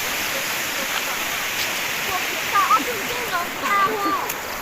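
Flood water covers a Thai village after heavy rain and rushes past in a steady, close, broadband wash, with faint voices and a few brief splashy accents partway through.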